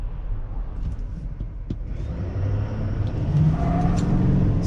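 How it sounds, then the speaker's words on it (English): A 2024 GMC Sierra AT4X AEV pickup on Goodyear Wrangler tires pulls away from a dead stop, its engine rumble building steadily louder and deeper as it accelerates, heard from inside the cab. "Let's get to a dead stop real quick and we'll go 0 to 60."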